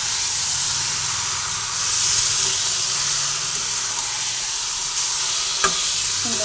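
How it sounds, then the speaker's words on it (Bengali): Marinated malai chicken sizzling loudly in a pan, a constant hissing fry with occasional stirring scrapes and one sharp clink near the end, close and steady with no speech. "চিকেনটা দিয়ে দিয়েছি, এরপরে একটু ভালো করে ওপেনিট করে মিশিয়ে নেব।"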